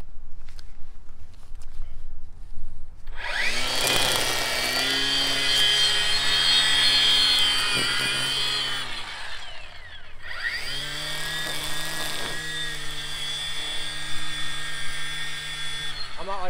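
A Worx Nitro 40-volt cordless string trimmer spins up and whines at a high pitch, cutting through dry grass. Two sustained runs are separated by a short pause, both close and loud.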